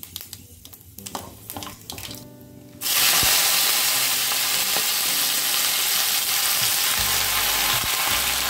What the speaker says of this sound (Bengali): ওই তেলেই পাঁচ ফোড়ন আর শুকনো লঙ্কা ফোড়নে দিয়েছি